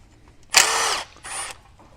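A power tool with a 10mm socket backs a nut off during a Chevy Cruze turbocharger replacement, giving one loud, close whirring burst of about half a second and then a shorter, softer second burst.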